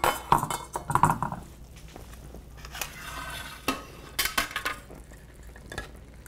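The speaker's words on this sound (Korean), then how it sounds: "이렇게 한번 뒤집어 줄게요." Boiled Spanish-style octopus is turned over in a hot, oily pot on low heat with the lid off: close metal utensil clinks and scrapes, a faint sizzle underneath and a few sharp knocks.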